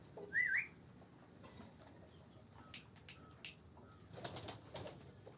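Pigeons at a pigeon house give soft coos and a faint whistle, with brief light flutters of wings as birds stir and take off, quiet and somewhat distant.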